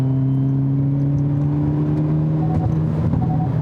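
A 2022 Hyundai Elantra N turbo sport compact sedan with a six-speed manual pulls uphill under throttle, its engine drone steady and slowly rising in pitch, heard from inside the cabin.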